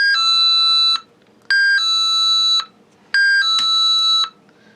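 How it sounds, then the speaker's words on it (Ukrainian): An electric bell in a power outage alarm rings loud and close in three steady bursts of about a second each, separated by short pauses, with no voices. "І зараз я вимикаю напругу і в нас повинен спрацювати цей дзвоник."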